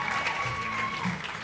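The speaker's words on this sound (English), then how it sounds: "Listen to this crowd right now. It is insane." A theatre audience at a Mamma Mia! performance applauds and cheers in a dense, continuous wash of clapping that holds steady from start to finish.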